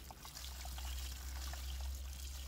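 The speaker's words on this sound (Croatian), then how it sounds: "Sljedeći korak je dodavanje vode preko kupusa i kao što sam rekla, morate u potpunosti prekriti kupus sa vodom." Water is poured over cabbage in a pickling barrel to cover it fully, a faint, soft trickling pour that runs steadily for a couple of seconds in a quiet room.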